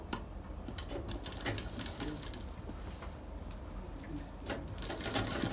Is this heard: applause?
no